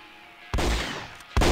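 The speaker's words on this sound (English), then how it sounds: "This, however, is a good opportunity for the old sniper rifle." Two loud, sharp sniper rifle shots in the game Contract J.A.C.K., about a second apart, each a heavy close blast with a short booming tail.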